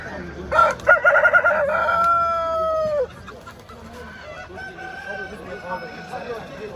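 Speckled roosters and hens at a poultry market crow and cluck close by, one loud crow followed by softer clucking and background chatter of people talking.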